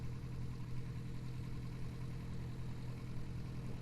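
A steady aircraft engine drone in Kerbal Space Program, droning at a constant low pitch throughout with no breaks, moderately loud and with no talking.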